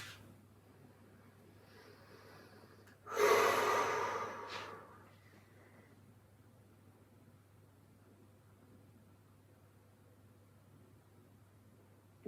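A deep exhaling breath during a yoga stretch sounds as one strong, breathy whoosh that rises sharply and fades over about two seconds, then gives way to quiet room hum.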